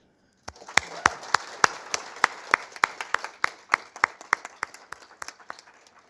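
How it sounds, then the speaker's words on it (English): A small audience at an award presentation claps sparsely, roughly twenty distinct, fairly close hand claps in an uneven rhythm after a brief silence, with no one talking. "Let us applaud him from here"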